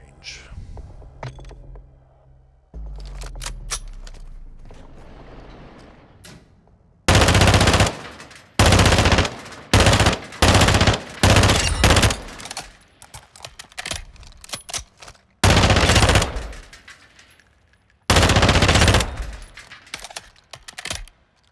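FR Avancer rifle from a video game firing at a range: several loud bursts of very rapid automatic fire separated by short pauses, with quieter clicks and handling sounds in between.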